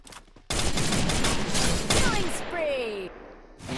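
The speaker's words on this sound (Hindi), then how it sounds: "सामने से एक बंदा फायरिंग कर रहा है" Bursts of enemy gunfire in Garena Free Fire Max, a dense rapid volley starting abruptly and rolling on for a few seconds before tailing off, loud and close with game sound effects woven in.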